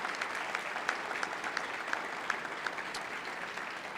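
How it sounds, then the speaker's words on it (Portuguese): A church congregation applauds steadily for several seconds, a dense even patter of many hands clapping across the room. "se conseguir dar um aplauso mais forte"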